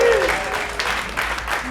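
Parents in a comedy show audience clap and cheer briefly, a short muffled burst of applause with crowd murmur and a voice over it, fading quickly.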